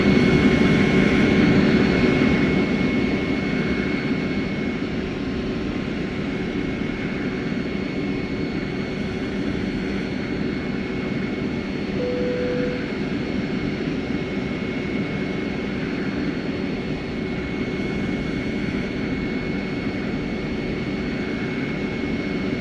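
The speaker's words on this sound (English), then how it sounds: "and you may start engines" Airbus A321 jet engines spooling up in the X-Plane flight simulator during pushback, a steady loud broadband roar with a sustained whine, continuous throughout with no talking.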